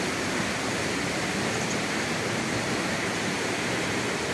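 A waterfall at Perau do Facão roars close by as a constant, loud, even rush of falling water with no other sounds.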